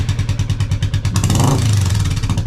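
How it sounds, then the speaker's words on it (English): A Royal Enfield Classic 350 thumping at idle through a Hitchcocks free-flow exhaust baffle, its rapid single-cylinder pulses close and loud before a short throaty rev swells and settles. "let's get a rev up with the baffle"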